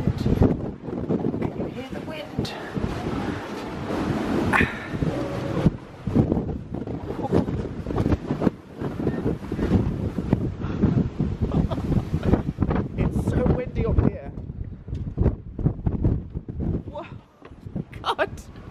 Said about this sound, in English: Can you feel the wind? Can you hear the wind?